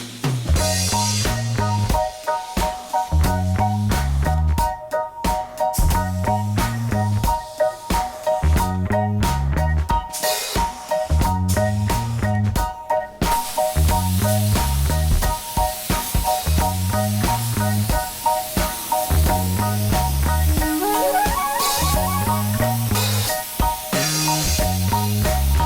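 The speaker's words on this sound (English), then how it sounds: "and we're ready to start priming." Spray gun applying primer to car body panels in a paint shop, repeated bursts of hissing spray in a steady on-off rhythm with a droning compressor hum underneath, close and loud, no talk.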